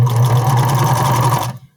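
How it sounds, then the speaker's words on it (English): A sewing machine runs steadily as it stitches through fabric and sews off the edge, a loud continuous mechanical whir with a constant hum that stops abruptly near the end. "then I'm going to sew right off of the fabric"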